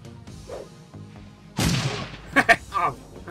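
Grenade blasts in the tactical game Shadowrun Returns: a sudden broad explosive burst followed by a couple of sharp cracking hits, loud and close, with game voices and tones before and after.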